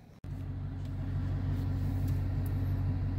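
Steady car engine and road rumble from inside a moving car, a low continuous drone holding level after a brief dropout at the start, with no talk over it.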